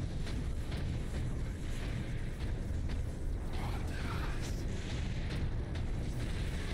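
Laser cannon fire in the Space Marine video game during a boss fight comes as heavy booming blasts over a constant roaring rumble of battle noise, loud and dense with no clear gaps.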